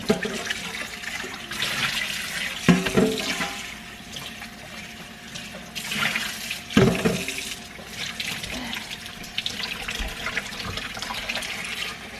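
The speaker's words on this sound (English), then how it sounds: "I need to rinse out our casings." Tap water runs and splashes steadily nearby, with a couple of sharper knocks and shifts in the flow as 19–21 mm hot dog sausage casings are rinsed under it.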